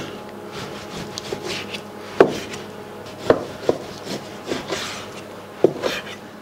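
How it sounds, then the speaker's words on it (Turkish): A knife slices meat on a wooden board with irregular soft strokes and a few sharper taps against the wood, close and moderately loud. "Etimizi dilimleyeceğiz."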